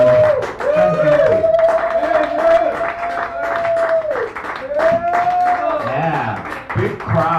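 Audience at an open mic in a San Francisco café applauding and cheering, a dense steady wash of clapping close by, with a voice talking and a sustained sung or called tone riding over it.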